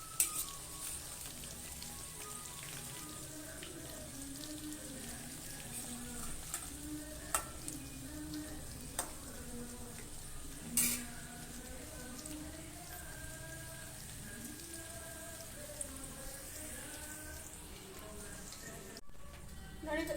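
Onion bondas deep-fry in oil over a medium flame with a steady, faint sizzle and crackle throughout, a few sharper pops, and quiet music in the background.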